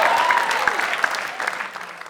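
An audience claps steadily, a dense patter of many hands that gradually thins out, with a faint voice underneath.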